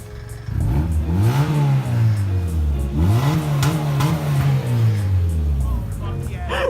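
A Mazda car with a loud exhaust and an incompletely fitted muffler, heard from outside the car, revving repeatedly in rising and falling surges. The engine is close and strong, and voices can be heard faintly.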